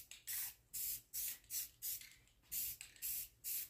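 Bursts from a can of spray paint in a woodworking shop, about eight short hissing sprays in a steady rhythm, close and fairly quiet, with no talking.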